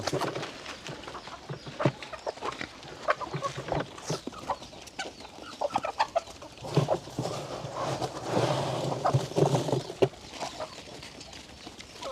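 Chickens cluck around a field at feeding time, with pigs nearby: scattered clucks and fowl calls over an open, busy farmyard background, with louder bursts of activity in the middle of the stretch.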